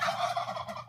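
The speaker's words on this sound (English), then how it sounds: "Oh, look, turkeys." Wild turkeys gobble in a short, loud, rattling burst that sounds close by, with no talk over it.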